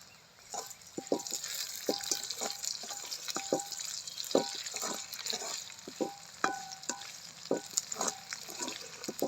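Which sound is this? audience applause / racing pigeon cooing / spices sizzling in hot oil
spices sizzling in hot oil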